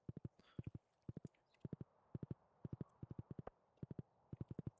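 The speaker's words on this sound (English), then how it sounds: "I just came down here with a horse." Horse hooves clip-clop in the video game Stardew Valley, arriving in steady, evenly spaced groups of three or four crisp knocks with nothing else heard.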